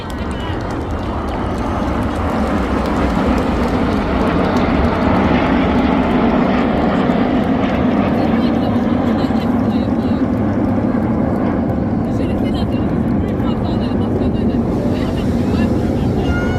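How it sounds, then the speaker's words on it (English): Red Arrows jets rolling around each other's smoke in a corkscrew manoeuvre at the Clacton-on-Sea air show, a continuous loud, broad jet roar with wind buffeting the microphone throughout. "Reds 8 and 9 roll around the smoke once again in a manoeuvre called the corkscrew."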